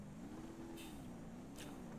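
A Bruckell Caldera Drift Edition car fitted with NOS in the game BeamNG.drive, its engine holding a steady drone with a slight waver in pitch, joined by two brief bursts of hiss.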